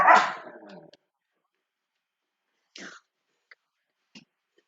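A dog gives one sharp, fairly loud bark that trails off, then after a pause a few short, quieter yips and barks come in isolated bursts against near silence.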